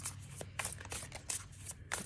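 Tarot cards being shuffled close up in quick repeated riffles, a series of soft papery bursts with no talking.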